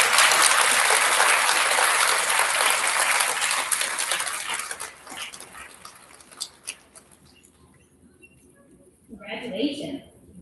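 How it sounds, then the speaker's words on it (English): Applause for fifth graders at an elementary school recognition ceremony fills a room with loud, dense clapping, which fades after about five seconds into scattered claps before a voice speaks near the end. "Big round of applause for our fifth graders."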